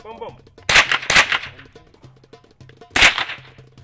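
Three sharp, loud AK rifle shots crack out at a shooting training range, two in quick succession and then one more after a pause, with faint low voices in the gaps.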